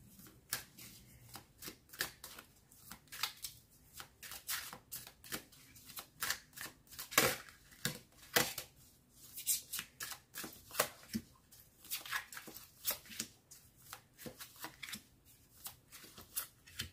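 Oracle cards being shuffled for a card reading give repeated crisp riffles and slaps in an uneven rhythm, close and fairly quiet, with no one talking over them.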